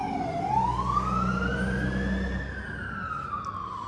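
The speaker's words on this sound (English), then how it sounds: "Pause for fire truck." A wailing siren from a passing fire truck, rising and falling in a steady sweep, loud and nearby with a rumble of traffic underneath, heard from a car workshop.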